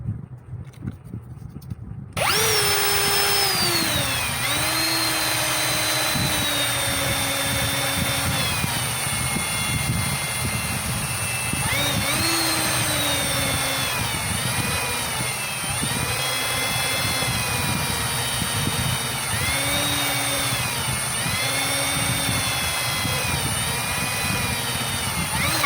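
A repaired stand-type electric fan switches on after a quiet moment and settles into a steady whirring hum. Wavering whiny tones drift up and down over the constant motor drone.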